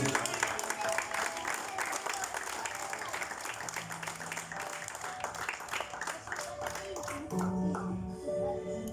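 Congregation applauding at a church service during a sermon, a steady wash of clapping with crowd noise and some voices and sustained music tones underneath throughout.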